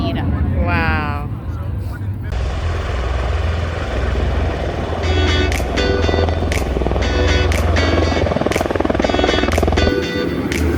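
A helicopter passes overhead with a loud continuous thudding rotor drone, while people talk over it.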